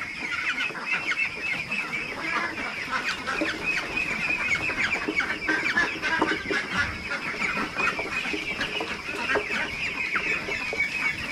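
A flock of around 46 female ducks on a duck farm quack and chatter continuously and densely at close range, overlapping calls filling the whole stretch.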